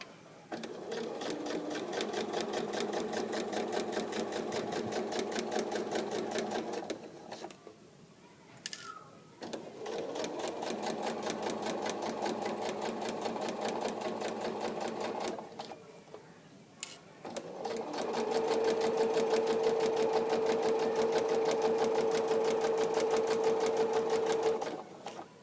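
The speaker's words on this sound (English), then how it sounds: "I'm going to keep sewing with this edge lined up" A sewing machine runs steadily along a folded fabric edge while sewing a casing, in three sustained bursts of close, even stitching with brief pauses between them and no talk.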